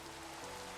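Steady rain in the Minecraft video game, a constant soft hiss of falling drops filling the whole short stretch with no voices.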